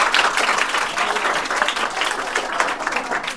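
An audience claps warmly for two speeches, a dense, even burst of applause close by that holds steady for a few seconds without pause.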